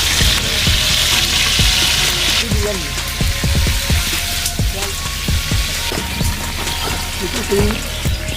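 Fish, part of a sea fish curry being cooked, frying in oil, giving a loud, continuous close-up sizzle and crackle with scattered pops, while people talk over it.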